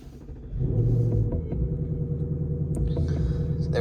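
A Ford Mustang GT engine starts from inside the cabin: a short cranking build, then a loud, steady low rumbling idle that carries on unbroken to the end.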